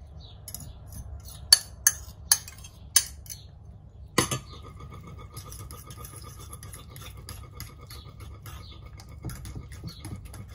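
A fork beats eggs in a bowl for a budget summer recipe, with gruyère being added. A few sharp clinks are followed by a quicker, continuous patter of metal against the bowl, close and fairly quiet.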